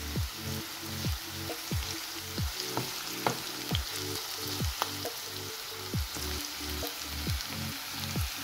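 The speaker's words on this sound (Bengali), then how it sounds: "তেজপাতা, এগুলোকে আমি কিছুক্ষণ নেড়ে চেড়ে ভেজে নিব" Potatoes, bay leaves and spices fry in oil for chickpea bhuna, a continuous gentle sizzle broken by regular spatula scrapes and taps as the pan is stirred.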